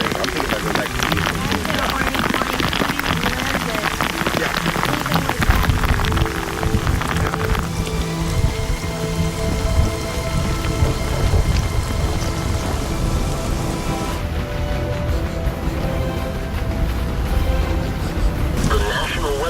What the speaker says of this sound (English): That looks like really heavy rain.